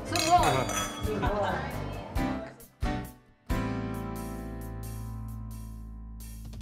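Wine glasses clink together in a toast among a group of women, a few bright chinks that ring out over lively chatter and clatter, then one glass rings on with a sustained tone.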